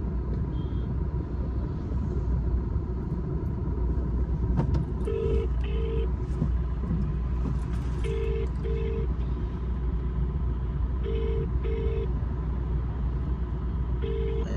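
Phone dialing and ringback tones, short paired beeps repeating at intervals over a constant low rumble of road traffic or an engine outdoors in the rain.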